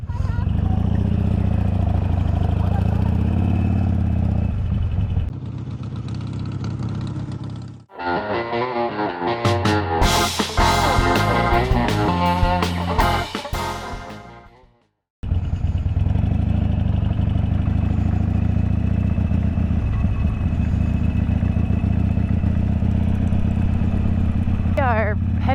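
Motorcycles pulling out of a campground near Narrowsburg, a loud steady engine drone running throughout and broken by a dense burst of clattering, revving noise in the middle, with a rider talking over it.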